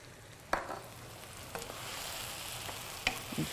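Food sautéing in a pan while cooking a Turkish almodrote, a low steady sizzle that swells slightly, punctuated by a few sharp utensil taps against the pan, nearby and without talking.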